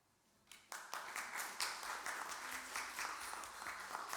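A church congregation at a Sunday service applauding a student award, sustained clapping from many hands that starts suddenly and fills the room, moderately distant and fairly quiet.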